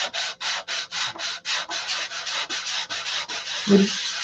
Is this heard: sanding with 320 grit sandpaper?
yes